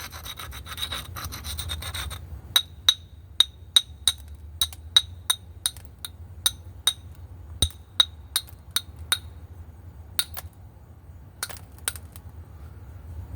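Knapped glass heart edge gets a short bout of gritty abrasive rubbing, then a run of sharp, bright clicks and ticks as the tool strikes along the glass, close and crisp.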